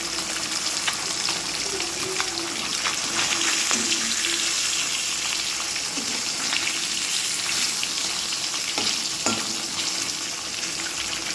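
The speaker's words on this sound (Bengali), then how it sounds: "এবার মাছগুলো ভেজে নেবো" Fish pieces frying in hot oil, a dense constant sizzle with scattered pops and spatters, loud and close, steady for the whole stretch with no voices.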